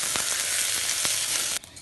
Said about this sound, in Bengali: আর এইবার চালটাকে আমি 4 থেকে 5 মিনিট হাই ফ্লেমে কিন্তু ফ্রাই করে নেব।